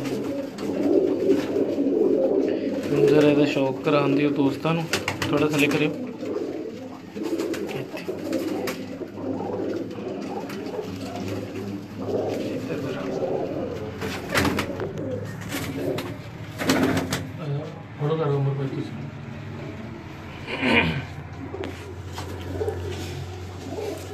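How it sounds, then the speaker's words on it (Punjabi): A prized pet pigeon coos steadily and closely through the whole stretch, its soft repeated calls mixed with men chatting nearby and occasional handling noises. "ਸਭ ਨਾਲ ਫੇਵਰਟ ਕਬੂਤਰ ਹੈ ਮੇਰਾ।"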